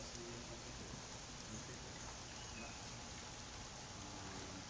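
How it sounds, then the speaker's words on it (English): Steady rain falling outside, a dense continuous hiss of drops on surfaces that stays even and fairly loud throughout, with no voices over it. "It's raining out, silly."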